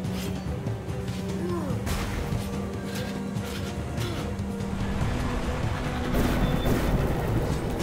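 Storm hazard in the dungeon-crawler game Curse of the Dead Gods, a steady wash of rain-like noise with rumbling thunder and crashing bursts, fairly loud and continuous, swelling toward the end.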